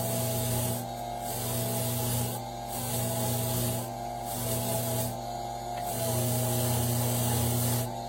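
Jewelry pieces are pressed against a spinning polishing wheel, giving a steady motor whir with a rough rubbing texture that swells and dips in repeated passes, with no talking.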